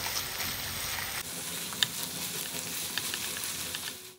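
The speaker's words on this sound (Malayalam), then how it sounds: "ഇനി ഇതെല്ലാം കൂടിയിട്ട് ഒന്ന് ഇളക്കി കൊടുക്കുക." A pizza sauce and ketchup filling sizzles in a hot pan as it is stirred: a steady frying hiss with a couple of light utensil clicks against the pan, close up and with no voices.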